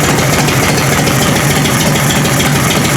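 A 1984 Harley-Davidson FLT Electra Glide Evo engine idles steadily up close, its carburetor flat slide producing a constant mechanical rattle over the low, even engine hum with no talk.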